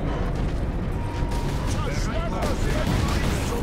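Squad gunfire in the Warhammer 40,000 Space Marine video game, a dense continuous barrage of shots and blasts layered with battle noise, with someone talking over the din.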